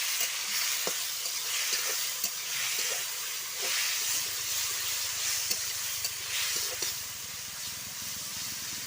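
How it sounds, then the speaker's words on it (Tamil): Tomatoes sauté with onion and curry leaves in a pan for eggplant thokku, a steady sizzling hiss running throughout with scattered scraping stirs of a spoon against the metal, close and continuous. "இப்போ நல்லா வதக்கி விட்டுக்கலாம்"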